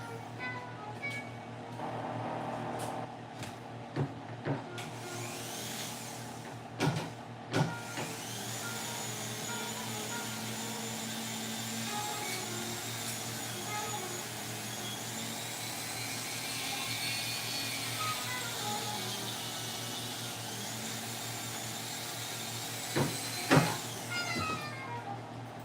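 A Dremel rotary tool whirs steadily while cleaning rust and corrosion off a pair of surgical scissors, a sustained high-pitched motor whine with brief dips and bursts at the start and end.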